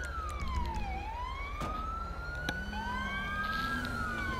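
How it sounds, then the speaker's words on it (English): A police siren wails up and down, rising and falling in pitch, fairly close, with a couple of sharp clicks or bumps along the way. "turn the sirens off"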